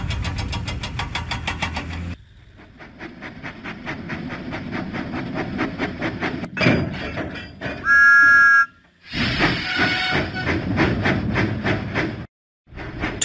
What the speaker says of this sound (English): Thomas pumped his pistons and puffed out of the docks